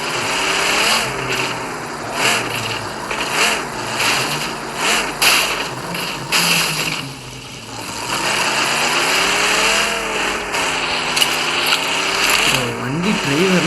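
Vehicle engine in a driving video game, loud wavering revs rising and falling continuously with a brief lull midway.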